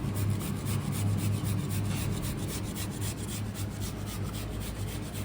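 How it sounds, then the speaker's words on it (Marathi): Boiled food is rubbed against a small hand grater in a home kitchen, a steady rasping scrape repeating in quick close strokes with no talking. "किसणी घ्यायची आणि किसायचं आहे बघा"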